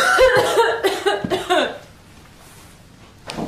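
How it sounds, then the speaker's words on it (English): A person with a cold coughs several times in quick, harsh bursts, close and loud, before trailing off into near silence with a faint sound at the end. "I can't stop coughing"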